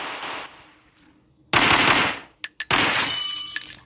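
Rapid bursts of gunfire from a fighting video game cut in sharply and stay loud, with a couple of brief isolated shots between the volleys, after a quieter stretch of game sound.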